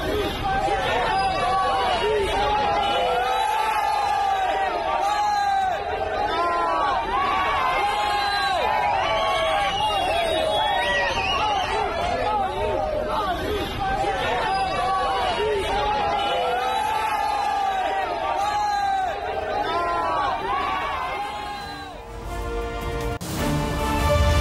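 A crowd of fans outside a restaurant in Bengaluru shouts and cheers for cricketer Virat Kohli and his wife Anushka Sharma, a dense, continuous roar of excited voices and whoops.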